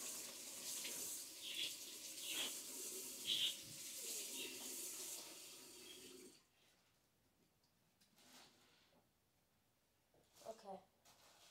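Tap water runs steadily into a sink as someone rinses paint off their hands, a continuous hiss for several seconds before the flow stops. Afterwards the room goes quiet except for a few soft knocks and a brief voice.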